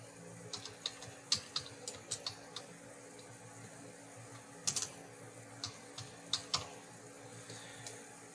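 Faint, irregular keystrokes on a computer keyboard, tapped in short bursts with pauses, close but quiet over a low room hum.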